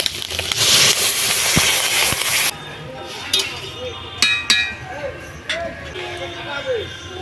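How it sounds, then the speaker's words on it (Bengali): Water and turmeric powder poured into a pan of frying pineapple and fish roe: a loud broadband sizzle for about two seconds, then quieter bubbling and clinking of a utensil. "এবারে দিয়ে দেবো হলুদ গুঁড়ো জল দিয়ে দিচ্ছি"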